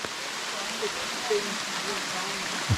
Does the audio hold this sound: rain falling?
yes